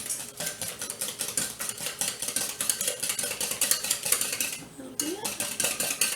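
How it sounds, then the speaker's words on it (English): A metal whisk beats homemade custard pie filling in a bowl, producing a rapid, continuous clatter of wire against the bowl with a brief pause near the end. A voice speaks briefly over it. "Use my whisk."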